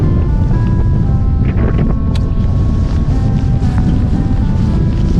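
Wind blowing across the deck of a fishing boat during offshore jigging, a loud steady buffeting rush on the microphone with faint creaks and clanks underneath.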